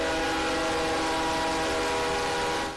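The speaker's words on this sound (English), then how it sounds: "a train stopped for hours on end in front of the neighborhood's only entrance" A train halted across the only entrance to a residential neighborhood, its steady loud mechanical drone and sustained tonal hum holding continuously close by, fading slightly at the very end.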